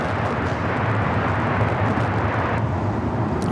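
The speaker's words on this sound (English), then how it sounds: "we just had a Delta Heavy arrive here on the south side" A Delta Air Lines Airbus A350-900 jet arriving at LAX at night, a steady broad roar of engine noise holding loud and constant throughout, with no talk over it.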